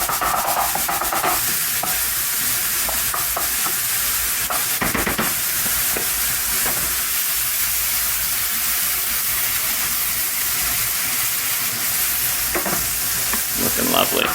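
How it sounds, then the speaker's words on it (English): A burger patty fries in a pan, a loud, continuous close sizzle with scattered sharper crackles and occasional stirring or scraping throughout. "I prefer to cook the burger completely on its own."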